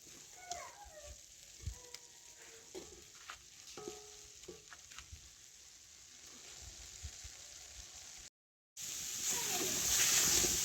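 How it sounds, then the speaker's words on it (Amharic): Onions fry in oil in a pan with a soft, steady sizzle and occasional stirring clicks and scrapes, then a brief break before a louder, fuller sizzle takes over near the end. "ሽንኩርቴን አቁላልቼ ጨርሻለሁ።"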